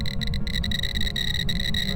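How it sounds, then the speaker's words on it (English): A Tier 1 EMF reader in the Phasmophobia video game hits EMF 5 and gives a continuous high-pitched electronic tone with slight flutter, over a constant low droning hum. "or EMF 5, which looks and sounds like this."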